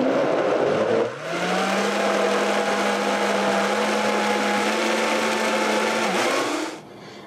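A closed blender whirs at high speed through a vegan chocolate ice cream mixture, a loud steady motor drone that starts abruptly, holds constant pitch for several seconds, then winds down.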